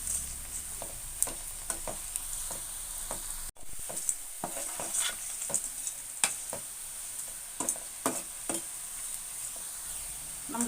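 Ragi onion pakoda frying in hot oil: a steady sizzle throughout, with frequent sharp clicks and scrapes from the spatula as the pieces are stirred and flipped.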